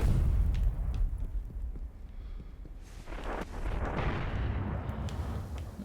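A boss in the video game Destiny, during a Nightfall mission, fires a heavy weapon. Deep booming blasts rumble with artillery-like force, and a second heavy burst lands partway through. The sound is loud and dense, with no talking.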